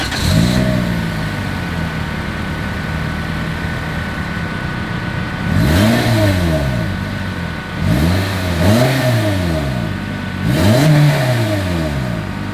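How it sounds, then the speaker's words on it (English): The exhaust of a 2022 Toyota Corolla settles into an even idle, then rises in three or four sharp revs that drop back to idle between each, close and loud with no talking. "As always, here is that exhaust clip."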